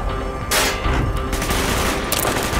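Heavy gunfire in Call of Duty: Black Ops, a dense fusillade of loud shots rattling continuously at close range against the game's noisy battlefield backdrop.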